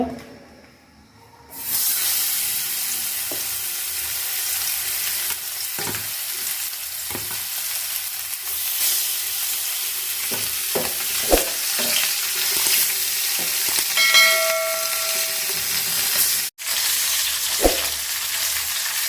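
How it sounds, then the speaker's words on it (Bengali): Koi fish fry in hot oil in a pan with a continuous loud sizzle and hiss, broken by occasional clinks and stirring knocks, with no talking. "মাছ ভাজা শেষ তো এখন আমি মাছগুলো তুলে নিব"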